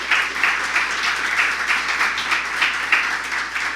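An audience at a grand opening program claps steadily in a dense, even patter of many hands, moderately loud with small swells, and no talk over it.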